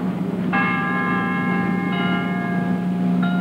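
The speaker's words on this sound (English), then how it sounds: "churches rang bells at the exact moment 24 hours after the" Church bells ringing across town in memory of the Challenger shuttle crew, sustained bright tolling tones over a steady low hum, with a fresh strike coming in partway through and again near the end.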